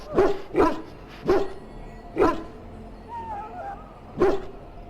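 Dog in the Dragon Age: Origins video game barks in repeated sharp yelps, about six spaced barks, fairly close, with a faint whimpering tone between them.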